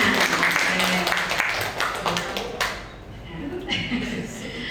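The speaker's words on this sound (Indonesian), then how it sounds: "Tepuk tangan." An audience at a school training session on positive culture and restitution claps for a speaker, loud at first and then fading after a couple of seconds, as a voice starts talking over the tail end.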